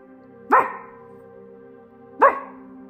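A small dog barks twice, well apart, each bark a single sharp, fairly loud yap indoors with a quiet room hum between.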